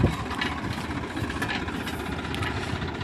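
A tractor engine runs steadily beside a newly dug well while hauling a worker up from its depths, a continuous rumbling drone with no breaks.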